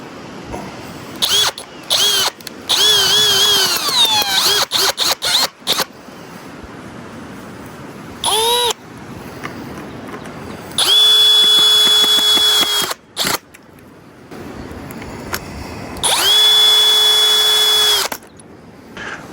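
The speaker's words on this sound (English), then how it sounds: "I'm using the Hercules brushless drill." A Hercules brushless power drill whines in several bursts, stopping and starting as it drives screws to mount a rain gauge, with short clicks and handling noise between runs.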